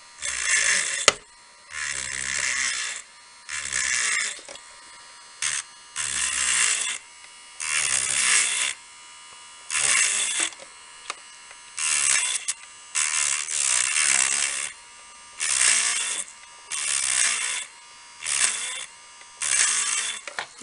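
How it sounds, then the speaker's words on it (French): An electric nail file shaping and polishing fingernails whirs in repeated short bursts, a high buzzing hum switching on and off about a dozen times, close and loud, with quiet gaps between. "ça permet de bien donner la forme à l'ongle et de le polir"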